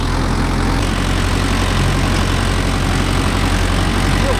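Mahindra Yuvo Tech Plus 585 4WD tractor engine running steadily close by, a loud, even diesel rumble that holds without a break.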